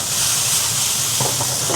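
Meatballs frying in a pan for a children's meatball pasta, giving a steady, close sizzling hiss throughout with no talking.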